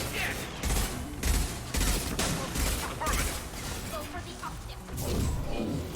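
Shockwave attacks and heavy gunfire in the PC game Mass Effect 2: a steady barrage of loud repeated blasts and crashing impacts across the whole stretch, with a voice speaking underneath.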